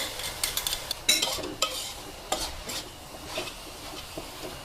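Minced pork stir-fried with lemongrass chili paste, a spatula scraping and clinking in the pan in uneven strokes over a soft sizzle.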